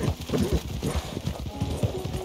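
A horse galloping in the video game Red Dead Redemption 2, with steady rhythmic hoofbeats thudding close and loud throughout, the horse sounding winded.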